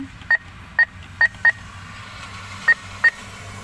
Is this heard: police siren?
no